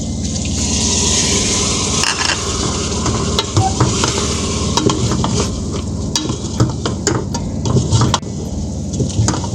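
Whole spices, red chilli, turmeric, salt and dried coriander are stirred and fried with a little water for a goat trotter (paya) curry, giving a steady close sizzle with repeated scraping and stirring clicks throughout.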